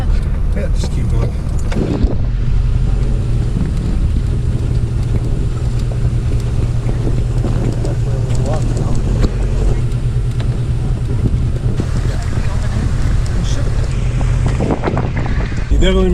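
A vehicle drives slowly across a frozen lake on an ice road, its steady low engine and tyre rumble continuous and close, with wind buffeting the microphone and people talking intermittently.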